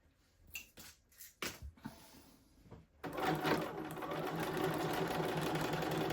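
A sewing machine stitches a seam in a blazer lining, starting after a few soft handling clicks and taps, then running as a loud, steady, close mechanical whir for the remaining three seconds.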